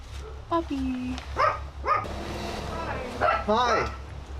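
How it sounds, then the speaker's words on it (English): A muzzled dog on a street gives a few short yips and whimpering barks close by, spaced out over a few seconds, with people talking nearby. "Puppy."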